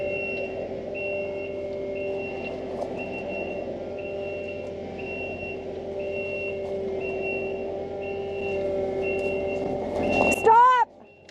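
A vehicle maneuvers beside a shelter being built in the woods, its reversing alarm beeping in a steady evenly spaced rhythm over a low idling engine hum, ending in a brief louder clatter.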